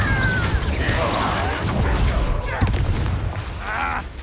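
Confringo blasting spell cast in Hogwarts Legacy, a burst of crashing, booming impacts with whooshing bursts amid dense game combat noise, loud and close, with a voice shouting over it.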